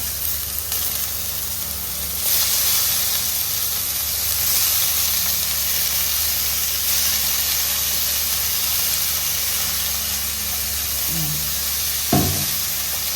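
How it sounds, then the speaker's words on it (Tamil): Beetroot sautéing in a pan gives a steady, close sizzling hiss that runs throughout, with a brief scrape of stirring near the end and no talk. "கொஞ்சம் நேரம் வதக்கிட்டு"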